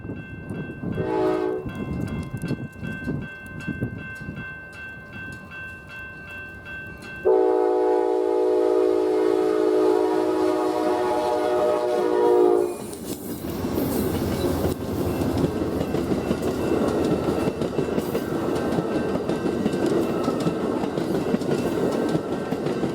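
An Amtrak passenger train at a grade crossing in Los Cerrillos, New Mexico, blows a loud, sustained horn for several seconds, then its wheels rumble and clatter past close by, filling the rest of the clip.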